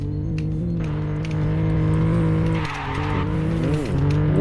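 Tuned Porsche Panamera oversteering on a track: loud, steady engine drone with tires squealing and skidding for several seconds, pitch sweeping and dipping near the end as the car slides and recovers, no talking.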